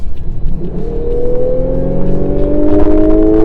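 A 2017 Lexus RC350 engine in Sport Plus mode revs up in one steady, loud, rising pull, heard close from inside the car with no talk.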